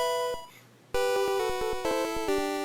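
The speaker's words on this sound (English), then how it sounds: "That's the sound of a metronome." The Metronome move effect from Pokémon Red/Blue/Green plays as a string of bright, stepped 8-bit chiptune notes, clear and upfront, with a short pause near the start.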